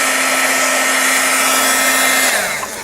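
A heat tool blows steadily and loudly, a constant whirring hiss as it melts shimmery embossing powder on a journal page, the motor note dipping and fading as it switches off at the end.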